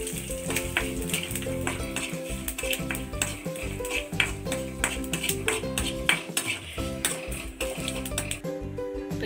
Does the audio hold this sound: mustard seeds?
yes